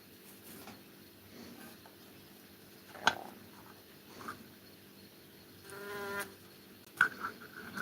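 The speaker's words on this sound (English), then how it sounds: "These are buzzing honeybees in other petri dish." Honeybees kept in a petri dish buzz with a steady, faint drone, with a few brief louder flurries of wings as they move about, no voices present.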